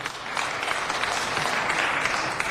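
A room at a city council committee meeting applauds a councilman, many hands clapping in a dense, even wash that holds steady throughout at moderate volume.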